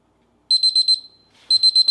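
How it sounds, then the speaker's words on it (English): A ThermoPro TP-04 digital food thermometer alarm sounds in rapid high-pitched electronic beeps, two bursts of about five pulses each, separated by a short gap, sharp and close in a quiet room. "Once the temperature hits 144, an alarm will sound."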